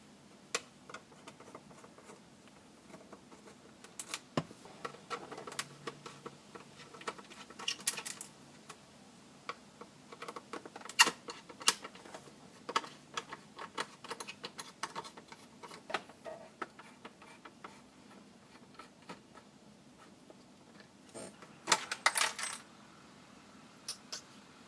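Small screws worked loose and dropped from the back of a JDM instrument cluster, a long run of light, scattered ticks and clicks up close, uneven in rhythm and mostly faint, with a few sharper taps.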